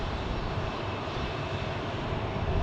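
Airplane engines roar steadily as an aircraft departs on the runway at Phoenix Sky Harbor Airport, a loud, continuous broadband rumble with no talk.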